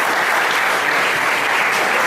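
A church congregation applauds loudly and steadily, a dense wash of many hands clapping that fills the whole moment without a break.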